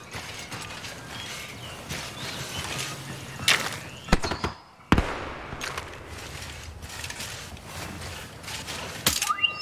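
Grenade explosions and weapon fire in Star Wars Battlefront 2 on Takodana at night, sharp bursts cutting through a continuous mechanical battle din, with two heavy blasts close together midway and another near the end.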